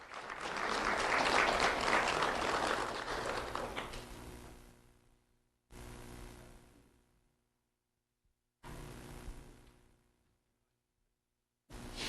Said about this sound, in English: Round of applause for Isabella.